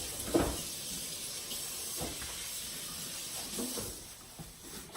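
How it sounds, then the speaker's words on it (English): Running tap water hisses softly into a kitchen sink while a knife is rinsed, a faint steady stream with a few light clinks and splashes, no talking. "Let me rinse this knife real quick."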